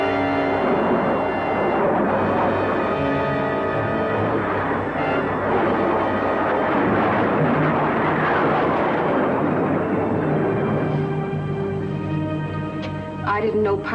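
A test-flight airplane from the 1957 film The Giant Claw roars past in a low approach, a loud, sustained engine drone that swells and slowly shifts in pitch before fading near the end, with a voice briefly heard.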